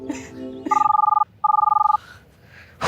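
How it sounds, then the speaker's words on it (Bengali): A telephone rings with an incoming call: two loud bursts of a trilling electronic ring, each about half a second, separated by a brief gap. Faint voices come before and after. "শাশুড়ি মা ফোন দিছে"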